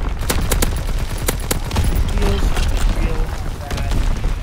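Artillery battery firing in the World War II shooter Call of Duty: WWII, a dense fusillade of repeated sharp blasts and gunfire crackling over a busy battlefield, with voices talking throughout.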